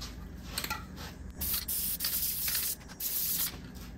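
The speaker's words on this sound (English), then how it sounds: "So I'm gonna spray both sides of this" Spray glue hisses in several short bursts onto a soft top strip for a Triumph Spitfire 1500, close and fairly quiet, with brief pauses between sprays.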